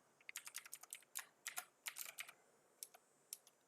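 Quiet, close computer keyboard typing in short irregular bursts of crisp key clicks, with brief pauses between runs of keystrokes.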